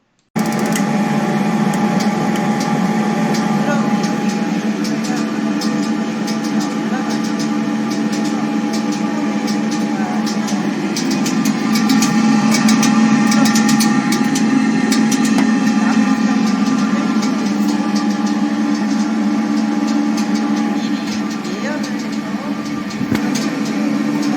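A gas-fired coffee roaster preheating before roasting gives off a steady, loud mechanical hum and whir with a low drone, running unchanged for the whole stretch with no talk.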